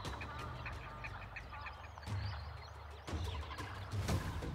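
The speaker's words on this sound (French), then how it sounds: "En bas, les grenouilles chantent." Frogs croak at dusk on the Komodo islands, a dense chorus of repeated nasal, quacking calls that carries on steadily, with a few louder calls standing out close by.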